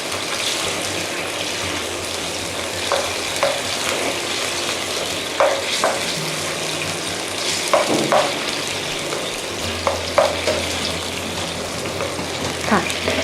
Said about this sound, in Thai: พยายามคนให้ทั่ว ๆนะคะ